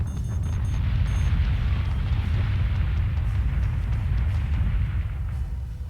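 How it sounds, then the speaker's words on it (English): A nuclear missile explodes in the space combat game BSG Deadlock, a long, heavy rumbling blast that holds its deep roar for several seconds before easing slightly, with no voices over it. "That's a nuke."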